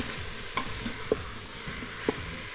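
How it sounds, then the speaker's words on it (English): Pork sausage with onions and garlic sautés in a pan, a soft continuous sizzle with a few light clinks of a utensil stirring. "we're going to saute this until we get the pork sausage all cooked up"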